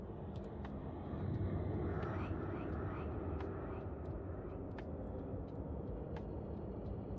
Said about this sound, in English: I'm also vacuuming, so not the best attention.